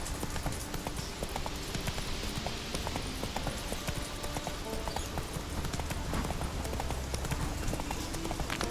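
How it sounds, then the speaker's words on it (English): Steady clip-clop of horse hooves trotting in the Witcher 3 video game, in Skellige, a continuous rhythmic gait running the whole stretch over a busy ambient bed of wind and background noise. "Come on, Roach"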